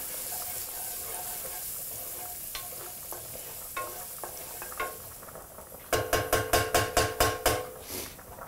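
Garlic frying in a pan gives a soft continuous sizzle, then a run of quick rhythmic metallic taps near the end, like a utensil striking the pan, close and fairly quiet.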